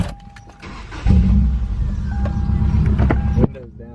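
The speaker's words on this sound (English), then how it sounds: "Hear that little exhaust leak somewhere." A car with a small exhaust leak drives past. A low engine rumble swells suddenly and holds, with a faint higher whine over it, then drops off near the end, and a brief voice is heard at the start.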